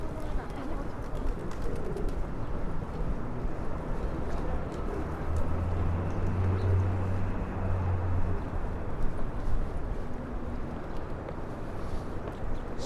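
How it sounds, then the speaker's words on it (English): Pigeons cooing in a pedestrian plaza on Broadway in New York City, soft low coos under steady city street noise and nearby voices. "Looks like the pigeons have this pedestrian plaza all to themselves."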